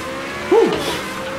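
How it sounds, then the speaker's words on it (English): A race car drifting in the racing game Project Cars 2, a single short rising-then-falling tire squeal cutting above a steady engine drone. "The car is drifting."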